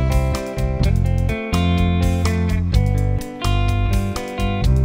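Chord loop recorded by studio musicians playing from a Ketron keyboard's Real Chords feature, a loud, continuous rhythmic accompaniment with steady strummed chord hits and changing harmonies, heard alone without talking.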